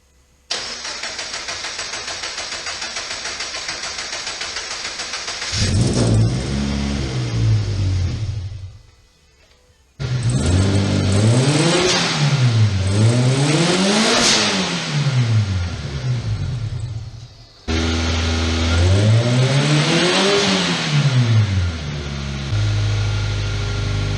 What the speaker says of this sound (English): We got the car turning on, we got it running.